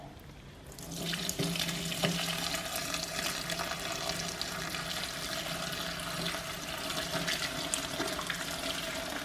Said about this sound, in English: So I'm just pouring it carefully in now.